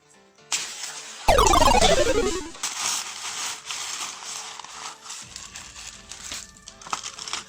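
A synthetic wig is unpacked from its cardboard box and netting, with loud crinkling and tearing of packaging, a sharp ripping burst early on, then ongoing rustling and handling noises up close.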